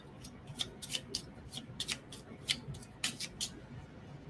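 Playing cards for the board game Gutenberg being shuffled by hand, a series of short crisp riffles and slaps in an irregular rhythm, close and fairly quiet with no voice.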